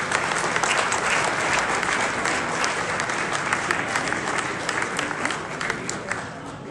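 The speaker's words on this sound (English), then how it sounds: "Let us welcome them with a warm round of applause." Steady, dense applause from a seated audience at an Indian Independence Day celebration held by the Consulate General in Melbourne, welcoming guests to the stage, loud and close and carrying on without a break.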